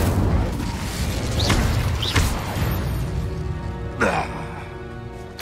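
Incendio fire spell cast in Hogwarts Legacy against a poacher, a few loud whooshing bursts with rising sweeps amid booming combat noise, the last burst larger than the others.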